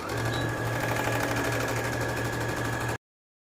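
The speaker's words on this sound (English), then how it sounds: "and then serge your seams" A serger overlocks the seams of a tie-front top, giving a steady, fast mechanical whir that runs evenly for about three seconds and then cuts off.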